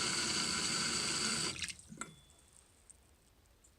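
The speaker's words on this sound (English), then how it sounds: "Here it is in action. I'll do a little water for you too so you can see it." Tap water pours steadily into a bathroom sink fitted with a pop-up drain stopper, then shuts off abruptly, leaving a few faint drips and small clinks in near silence.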